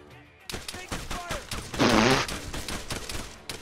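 Rapid gunfire in the military shooter game ArmA III crackles in fast repeated bursts of shots, near and loud, with a heavier blast of fire in the middle and a voice talking briefly over it.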